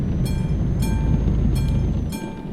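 Train rolling past a level crossing in the Euro Truck Simulator video game: a steady, loud rumble with rhythmic wheel clacks repeating about every 0.7 seconds, fading slightly at the end, with no voices.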